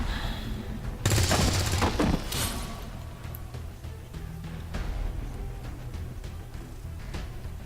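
Gunfire in the video game XCOM 2, a loud burst of rapid automatic shots followed by scattered sharper cracks and lighter pops over a low background rumble.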